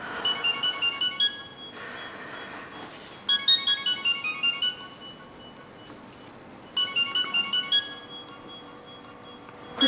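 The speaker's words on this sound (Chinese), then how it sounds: "接电话呀？" A telephone rings in three repeated bursts of a bright electronic ringtone, each a quick run of pulsed tones with short pauses between, clear and fairly close, with no talking over it.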